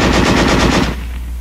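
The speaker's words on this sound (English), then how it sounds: "Weapons giving automatic fire will fire continuously as long as pressure is applied to the trigger or until the ammunition is exhausted." Machine gun automatic fire rattles out as a rapid, close, loud burst of about eight evenly spaced shots, ending with a brief fading reverberation.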